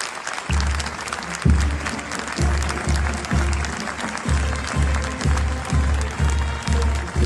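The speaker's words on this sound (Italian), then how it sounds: "Un applauso e silenzio" Sustained applause from mourners outside a church as a coffin is carried out after a funeral, a dense steady clapping with a rhythmic low thudding pulse running beneath it throughout.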